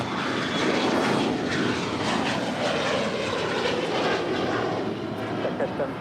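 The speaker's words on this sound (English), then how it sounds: "China Airlines Boeing livery 777-300ER pushing back" A China Airlines Boeing 777-300ER pushes back at LAX, its engines giving a steady, loud, broadband roar that holds evenly throughout with no clear breaks.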